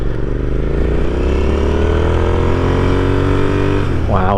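A 2021 Royal Enfield Continental GT motorcycle fitted with an AEW exhaust rides past, its loud, close engine droning steadily with rising revs as it accelerates, and a voice starts speaking at the very end.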